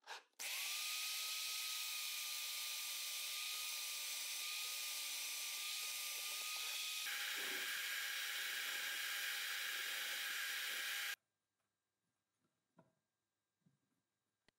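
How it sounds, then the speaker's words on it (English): A power drill whines at a steady pitch while boring into wood, dropping slightly in tone midway, running about ten seconds before stopping, followed by faint clicks. "First, I'll drill the three holes that will act as rotation axes."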